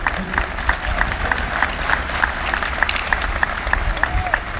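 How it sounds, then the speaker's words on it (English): A crowd at the Chase Center ribbon-cutting ceremony applauds loudly and steadily, many hands clapping in a dense, continuous roar with sharper individual claps popping out, sustained throughout. "Bigger applause."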